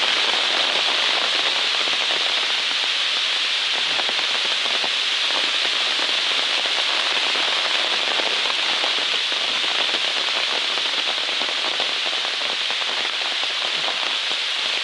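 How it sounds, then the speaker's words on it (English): Continuous rain drums on a trekking umbrella right overhead on a hiking trail, a bright, even hiss of countless drops with occasional louder taps. "here comes the rain again"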